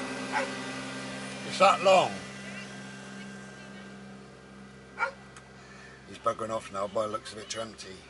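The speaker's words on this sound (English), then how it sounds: "Dogs are barking next door." Dogs bark next door, a couple of short barks at a distance, mixed with someone talking over a steady low background hum.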